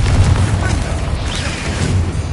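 Confringo spell blast in Hogwarts Legacy, a deep rumbling boom with low-end explosive weight that rolls on steadily, mixed with game sounds and a brief voice.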